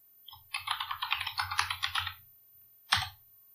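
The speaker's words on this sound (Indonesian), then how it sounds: "Selanjutnya kita tinggal masukkan saja password kita." Rapid keystrokes on a computer keyboard while entering a password in an Ubuntu MATE terminal, a quick run of close, light clicks followed by a pause and one firmer key press.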